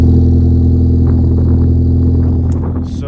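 A Ford Focus ST engine idles to warm up in snowy weather, giving a loud, steady low hum close by. A few faint clicks and scrapes come in toward the end.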